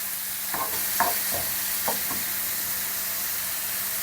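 Steady sizzling of kimchi frying in a hot pan, with a few quick scraping stirs early on over the continuous hiss.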